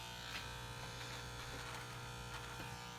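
An inexpensive $15 electric razor hums steadily while shaving, a quiet continuous buzz with faint scraping strokes against stubble, close up and with no talking.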